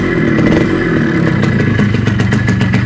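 A Yamaha RD135 two-stroke motorcycle engine, cold and flooded, runs loud and close with a raspy, steady buzz and light mechanical clatter, lifting slightly as the throttle is blipped.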